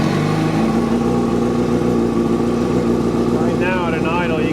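A 2005 Yamaha R6 motorcycle engine fires up and settles into a steady, loud, close idle with a buzzy hum. A voice speaks over it near the end.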